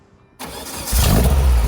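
A Volkswagen Beetle with a 2.2-litre flat-four engine cranks and catches, then settles into a steady, throaty idle with a low, even rumble, close and loud.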